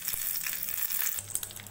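Hot mustard seed and curry leaf tempering poured into horse gram chutney, giving a bright, close sizzling hiss with small crackles and a faint low rumble, no talk.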